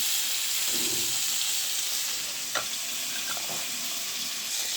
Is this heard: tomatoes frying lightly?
yes